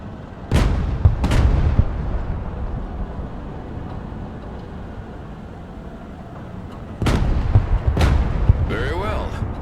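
Heavy artillery in the real-time strategy game Broken Arrow, set in a Soviet invasion of Europe, booms in two pairs of loud, sharp blasts a few seconds apart, with rumbling decay and engine noise between them.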